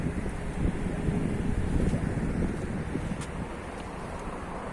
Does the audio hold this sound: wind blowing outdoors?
yes